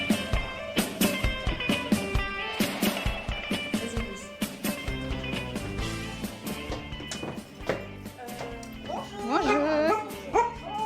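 A dog barks and yips excitedly in repeated bursts, with whimpering whines near the end, heard close while people talk around it.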